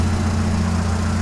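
A 2007 Seat Ibiza's 1.4-litre BXW petrol engine idles steadily and close by, a continuous low hum with a smooth, even rumble and no voices over it.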